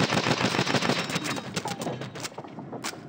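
Rapid automatic gunfire in Call of Duty Advanced Warfare, close and loud, rattling in fast bursts that thin out toward the end with a few isolated shots.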